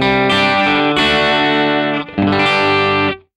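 Fender 70th Anniversary Broadcaster electric guitar played through a 65 Deluxe Reverb tube amp with effects, sustained distorted chords with a brief dip midway before ringing out and fading near the end.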